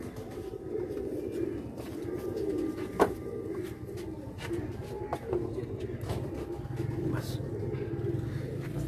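Pigeons coo in a low, soft, continuous murmur with a few sharper clicks, while distant traffic rumbles underneath.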